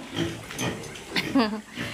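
Pigs kept as livestock grunt and snort close by, short rough bursts mixed in with ongoing speech from a man.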